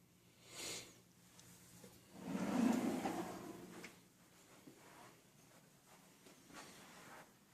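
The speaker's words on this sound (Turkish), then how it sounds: "Çekmeceler." Drawers in an apartment slide open and shut with a faint early thump and a longer louder sliding rumble midway, followed by soft handling noises in a quiet room.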